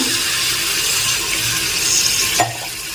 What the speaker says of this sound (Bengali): এবার আমি এর মধ্যে জল মেশাবো তবে পরিমাণে অল্প মেশাবো গ্রেভি তৈরি করার জন্য